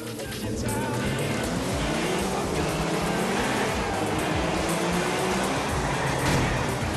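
Car engines roar in a street race in the video game GTA IV, a continuous dense rushing drone that holds steady and loud from start to finish.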